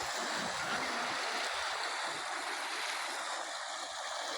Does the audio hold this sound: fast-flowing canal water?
yes